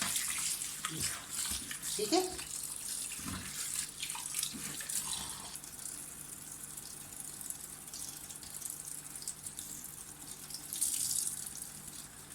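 Water poured from a tap over strained paneer in a cloth while making rasmalai, a steady splashing and running stream with a few louder gushes, and someone speaking briefly.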